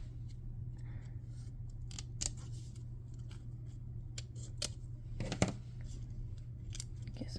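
Crafting scissors snip through material in sparse, crisp cuts, one sharper snip standing out, heard close over a steady low electrical hum, with no talking.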